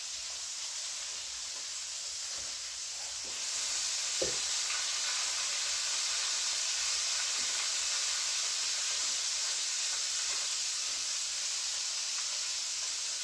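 Chicken wings sizzle in a skillet in a steady, close, bright hiss that thickens partway through, with a few soft clinks and taps and no voices.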